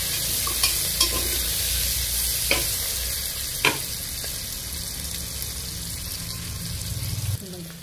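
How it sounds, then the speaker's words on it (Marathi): Onions sautéing in a pan for a quick soybean pulao, a continuous close sizzle with several sharp metallic clinks and scrapes from stirring, no talk. "कांदा व्यवस्थित परतून घ्यायचा आहे।"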